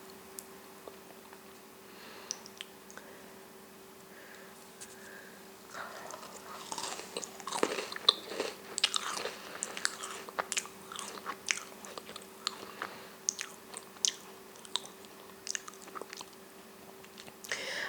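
Oreo cookies dipped in milk are eaten up close: quiet at first, then a dense run of crisp bites, crunches and soft wet chewing that continues irregularly to the end.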